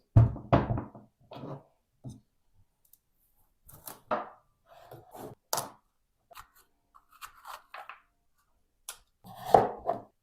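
Peeled, deseeded pumpkin is chopped into cubes, with irregular clusters of sharp knocks of a knife hitting a cutting board, separated by short pauses and ending in a louder flurry of chops.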